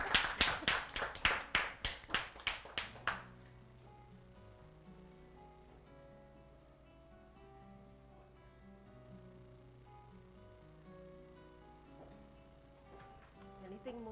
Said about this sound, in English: Ah, well, clap now.